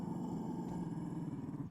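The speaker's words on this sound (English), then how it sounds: "Oh, look at the good doggy." A Mabari war dog in Dragon Age: Inquisition gives a low, rumbling growl, steady and close for under two seconds before trailing off, with no voices.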